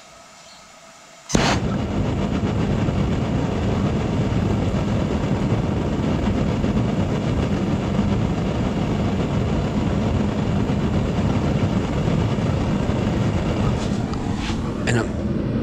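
A furnace gas burner lights with a sudden whoosh after a quiet moment, then roars steadily with a dense, rumbling flame noise and a few clicks near the end.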